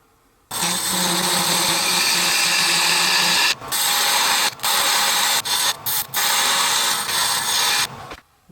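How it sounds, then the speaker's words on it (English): A wood lathe turns a roughly one-inch tenon sized to fit a 4-jaw chuck, giving a loud, close, continuous whirring scrape that runs for several seconds with a few brief dips and breaks, and no talking. "I'm going to turn about a 1-inch wide tenon, just large enough to fit in my 4-jaw chuck"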